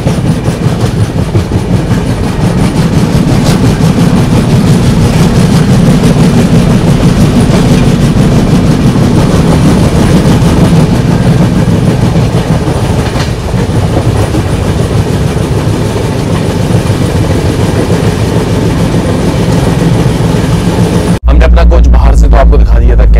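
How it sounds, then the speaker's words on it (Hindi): The Patalkot Express rolls along just after leaving Seoni railway station, with a loud, continuous rumble and rhythmic wheel clatter heard from on board, steady throughout before a sudden change near the end. "अपनी पातालकोट एक्सप्रेस निकल चुकी है सिवनी रेलवे स्टेशन से"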